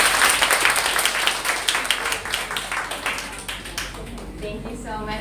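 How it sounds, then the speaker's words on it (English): Applause from an audience welcoming someone speaking for a recruitment foundation at an information drive, dense steady clapping across the whole span that thins slightly toward the end as a voice begins. "Let us give her a round of applause."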